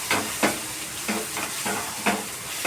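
Eggs stirred in a cooking pan, a constant hiss of frying with repeated scraping strokes of the spoon at an uneven rhythm.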